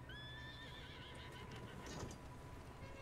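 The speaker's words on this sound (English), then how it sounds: "Ooh, horse." A horse neighs in Red Dead Redemption 2, a shrill wavering whinny heard faintly over a steady low background hum.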